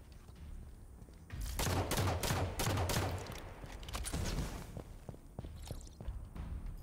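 Rapid bursts of gunfire crackle through a competitive video game match in a breakout league game, dense volleys of shots then scattered single cracks, loud and close over a constant game background.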